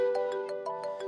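A phone ringtone plays a bright, repeating electronic melody of short pulsed notes, loud and close, with no talking over it.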